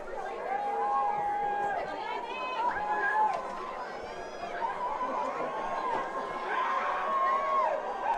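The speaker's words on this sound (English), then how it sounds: "Crowd getting loud again." Crowd at a high school football game swells and roars from the stands, a steady wash of cheering and shouting with a commentator talking over it.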